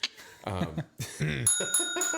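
A bicycle bell rings in short, bright metallic dings near the end, close and clear, following a few words of speech.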